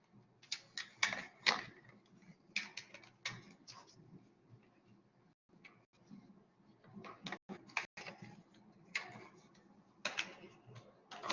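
Paper being creased and folded by hand for origami, with scattered sharp crackles and soft rustles in irregular bursts, close and fairly quiet, no talking.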